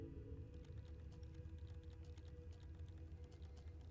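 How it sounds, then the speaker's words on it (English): Faint, rapid computer keyboard typing in the horror game Penumbra, a steady patter of light clicks over a low droning game ambience that runs throughout. "And I can hear typing."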